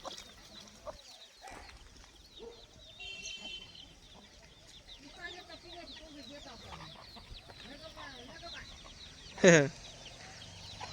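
Native free-range village hens and chicks cluck and chatter softly across a farm field, with scattered calls near and far and one sharp louder cry near the end.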